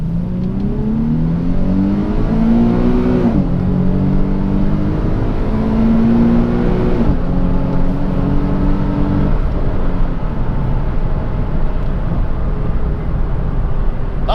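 A JDM car with paddle shifters accelerates hard, its engine note climbing steadily through two quick upshifts and then pulling on, loud and close, with no talking.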